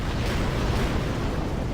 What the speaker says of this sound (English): cool mechs don't look at explosions.